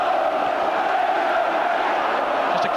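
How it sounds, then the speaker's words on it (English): A dense football crowd roars throughout at Ayresome Park during the first period of extra time, Aston Villa against Middlesbrough in 1990. The steady, loud wall of massed voices never lets up. "the crowd now in tremendous voice"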